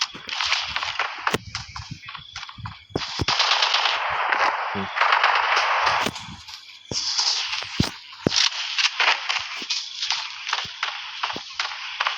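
Gunfire in the video game Arena Breakout: rapid automatic bursts and sharp single shots crackle in clusters through the scene, with loud stretches broken by short pauses.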